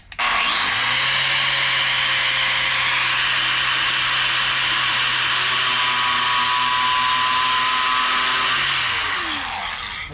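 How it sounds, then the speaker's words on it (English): A 6-inch angle grinder cuts through a braided stainless fuel line wrapped in painter's tape, producing one loud, steady, high-pitched whine and grind that holds for about ten seconds before winding down. "we're going to use the angle grinder to cut it"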